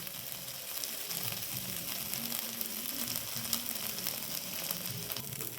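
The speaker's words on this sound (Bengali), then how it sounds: "এটা একটু ভাজা হতে থাক" Potato pasta fries in a pan with chili powder, giving a soft, continuous sizzle with faint crackles that holds steady throughout and stays fairly quiet, with no voices.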